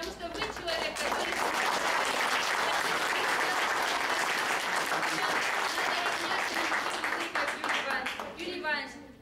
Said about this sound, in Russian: поддержат меня своими бурными аплодисментами